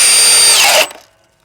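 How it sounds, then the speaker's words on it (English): A 20V brushless cordless hammer drill driving a 4 5/8 inch self-drilling bit through 2x8 cedar lumber, a loud steady whine that drops in pitch and cuts off as the motor stops. "this 4 5/8 inch self-drilling bit that we're gonna drill through this 2x8 cedar lumber"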